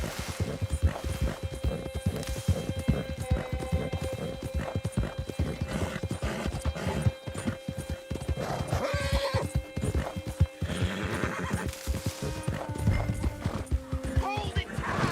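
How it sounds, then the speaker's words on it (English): In Red Dead Redemption 2, a horse's hooves clip-clop in a fast, steady gallop with whinnies and neighs mixed in, while a person talks over it throughout. "Horse!"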